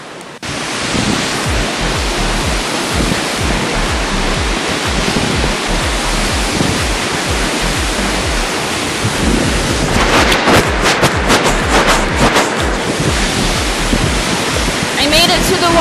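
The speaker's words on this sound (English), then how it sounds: "waterfall." A waterfall on the Adams Canyon hiking trail in Layton, Utah roars as a loud, steady wash of rushing water close by, with wind buffeting the microphone partway through.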